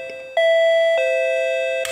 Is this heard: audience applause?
no